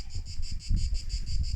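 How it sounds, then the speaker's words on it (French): Crickets chirp outside a villa in the Corsican mountains, a steady pulsing trill of even beats, with low wind rumble buffeting the microphone underneath. "vous entendez le bruit, c'est les criquets"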